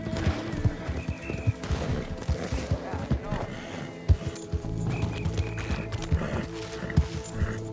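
A horse gallops in Red Dead Redemption 2 with rhythmic thudding hooves, mixed with scattered gunshots and other game noises, while someone talks over it.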